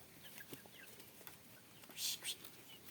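Soft, scattered clucking from chickens near jackfruit with a couple of brief louder bursts near the end, some faint voices murmuring in the background.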